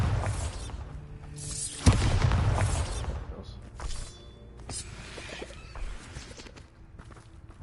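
A Bombarda blasting spell in Hogwarts Legacy lands as one sudden booming burst, followed by a fading rumble, scattered mechanical clatter and light footsteps.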